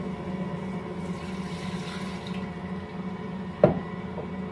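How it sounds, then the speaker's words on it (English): Hot water pours into the bowl of a running mixer set on low, a steady liquid wash over a constant motor hum, broken by one sharp clink near the end. "We start with 2 cups of hot water."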